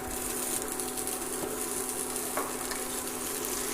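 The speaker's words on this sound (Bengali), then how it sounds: "এবারে ডিম আর আলুটাকে ভালো করে লাল লাল করে ভেজে নেব।" Egg and part-boiled potato frying in a pan over medium flame, with a steady, dense sizzle close up throughout and a faint scrape or two, no voices.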